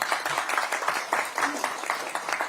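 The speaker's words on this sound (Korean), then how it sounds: "전 지사님께 박수 한번 보내주시고요." A political event audience applauds a former provincial governor, a dense steady wash of many hands clapping at moderate volume from across the room.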